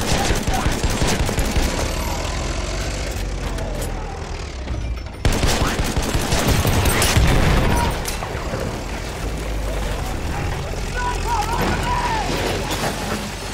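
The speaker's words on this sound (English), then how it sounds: "It's an enemy machine gun!" Enemy machine gun fire in a Battlefield 1 multiplayer battle on Operation Kaiserschlacht, a dense ongoing clatter of shots with booms and engine rumble throughout, briefly dropping out around the middle before resuming loud.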